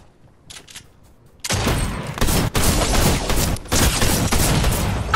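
Fortnite gunfire begins with a few quiet shots, then bursts into loud, sustained volleys of rapid shots with brief gaps between them.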